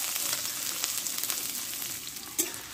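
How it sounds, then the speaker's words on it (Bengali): Chopped onions frying in hot white oil in a kadai: a steady, close, busy sizzle with a crackling pop near the end, no voices. "আমি এই তেলে এবার পেঁয়াজ কুচনো দিয়ে দেবো।"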